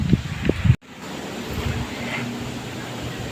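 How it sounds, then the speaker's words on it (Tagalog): Strong wind gusts roar steadily into the microphone outdoors as a group prepares to leave for Camp Obe, a broad rumbling rush that starts abruptly after a brief cut and continues alone. "Lakas ng hangin."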